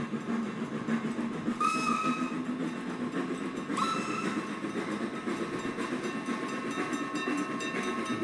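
Freight train in a railway video game rolling steadily along the rails with a continuous rumbling clatter, a whistle sounding twice, briefly, near the start and middle.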